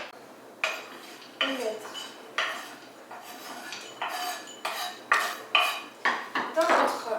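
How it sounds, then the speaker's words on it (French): A knife chops almonds on a cutting board in a steady series of about a dozen close, sharp thuds that quicken toward the end, with a brief bit of talk. "je vous conseille de les mettre sur une planche à découper et de les découper"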